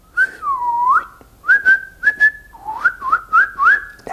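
A person whistles a short, wavering tune of sliding and chirping notes in several quick phrases, close and clear with no talking.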